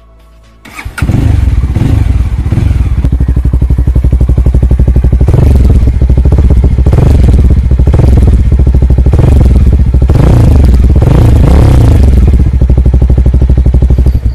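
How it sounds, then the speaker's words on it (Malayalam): Mahindra Mojo motorcycle engine starts with a thump, then idles loudly and steadily before several sharp, bass-heavy exhaust revs rise and fall in quick succession, close by with no talking. "നല്ല ബാസോട് കൂടിയ എക്സോസ്റ്റ് സൗണ്ടാണ് ഇതിന് വരുന്നത്."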